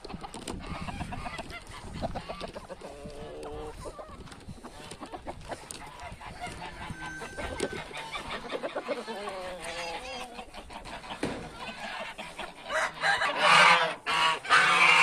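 Geese and chickens call at a farmyard coop on a windy day, scattered honks and clucks in a noisy outdoor mix that grows louder and rougher toward the end.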